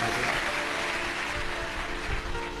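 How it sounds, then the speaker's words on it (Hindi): An audience at a live Shiv Mahapuran religious discourse in Jalgaon clapping, a dense, steady wash of applause from many hands sustained throughout, with no clear speech over it. "एक बार जोरदार ताली बजाकर संतों के लिए"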